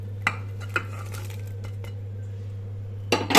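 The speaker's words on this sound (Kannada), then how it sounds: "ಇದು ಆಗಲೇ ಕುದಿ ಬರ್ತಾ ಇದೆ ಇದಕ್ಕೆ ಹಾಗಲಕಾಯಿ ಸೇರಿಸ್ತಾ ಇದ್ದೀನಿ" Bitter gourd pieces go into a pot of boiling liquid for sambar, giving a few sharp clinks of a utensil against the pot, scattered and close, then a louder rattling clatter at the end.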